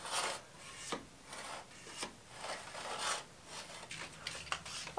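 A short trimming knife cuts through wallpaper behind a radiator in a series of close, raspy scraping strokes with brief pauses between them, no voices present.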